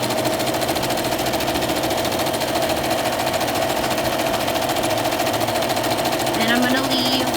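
A sewing machine running a basic stitch with ivory thread on a clothespin bag, a fast, even mechanical whir and clatter held steady throughout, with a voice briefly near the end.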